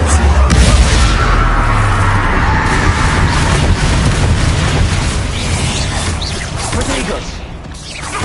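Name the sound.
Confringo spell explosion in Hogwarts video game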